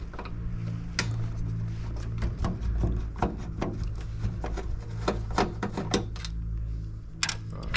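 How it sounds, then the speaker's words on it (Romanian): A screwdriver works a screw loose on the grille of an air conditioner's outdoor unit, giving close, intermittent metallic clicks and scrapes over a steady low machine hum. "Să aveți nevoie de o șurubeniță. Are aici un șurub. Și ăsta o să-l desfacem."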